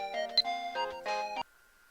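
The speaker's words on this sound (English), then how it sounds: "And it rings just as I do." A phone ringtone plays in the Steins;Gate visual novel game, a short bright electronic melody of stepped tones lasting over a second before cutting off, leaving a faint steady hum.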